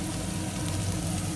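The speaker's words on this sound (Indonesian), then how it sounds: "Dan minyaknya udah panas, aku rasa ini. Kita masukin bawang putihnya." Garlic dropped into hot oil in a pan, giving a steady close hiss of frying that continues evenly without pause.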